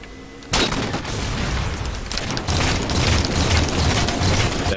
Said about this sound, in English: I need to use a sniper shot.